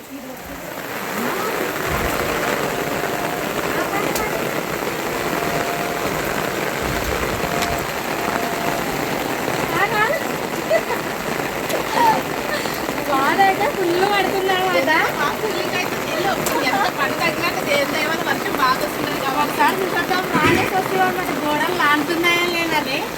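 Heavy rain pouring down outdoors, a dense continuous hiss and splatter with running water, steady and loud across the whole stretch while people talk over it.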